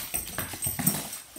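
A dog's quick paws patter and scrabble across the floor as she runs after a thrown Nerf toy, a short burst of light, uneven footfalls close by.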